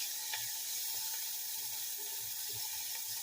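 Caramelized onions and cube steak fry in a pan, giving off a soft, even sizzle with small pops and crackles that carries on steadily and quietly. No one talks.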